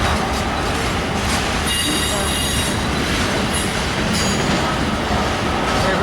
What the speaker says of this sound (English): Look at the 85-foot auto parts car used to make its way now.